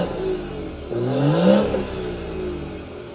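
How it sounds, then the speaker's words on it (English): A manual BMW M240i in sport mode fires up and gives a couple of quick revs, the engine note rising to a peak and falling back to a settled idle, loud and close with no talking. "let's get a start up and a few little revs"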